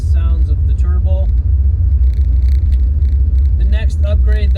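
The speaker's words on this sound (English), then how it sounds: "And I have been enjoying the sounds of the turbo." Turbocharged engine of an Audi S3 with a modified intake and muffler delete, a steady loud low rumble and purr that holds for several seconds while a person talks over it.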